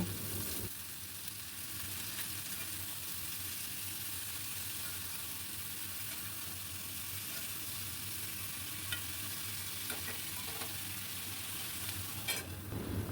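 Ridge gourd with salt is stirred in a pan over a gas flame, giving a steady close sizzle with scraping strokes that runs unbroken throughout and has no talk.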